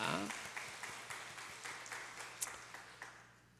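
A church congregation applauds with faint, moderately paced clapping that sounds somewhat distant in the room, following the tail of a spoken voice at the start.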